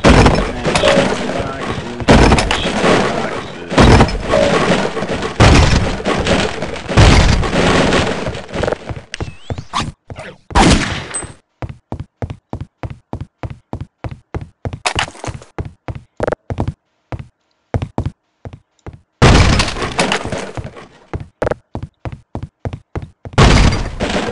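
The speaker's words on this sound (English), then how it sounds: "Smashing boxes," Wooden crates being smashed in Half-Life: Opposing Force: loud, sharp repeated cracking thuds, dense at first, then a fast, steady rhythmic run of hits with brief gaps, ending in another heavy burst.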